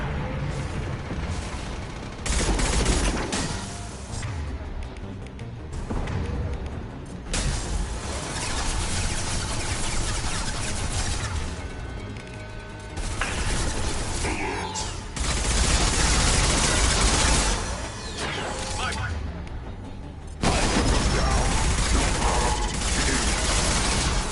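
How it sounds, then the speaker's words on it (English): Gunfire rattles through a Mass Effect 2 battle, dense volleys of shots and booms that come in waves and surge and ease, loud and close, with brief drops between heavy bursts. "Firing a high-impact shot!"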